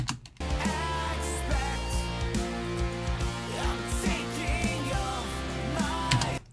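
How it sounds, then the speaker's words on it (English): A compressed snare drum sits inside a full, dense music mix, its hits landing as repeated crisp cracks among sustained instruments across the whole stretch. "just listen to this snare"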